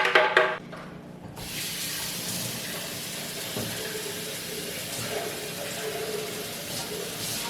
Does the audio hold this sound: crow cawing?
no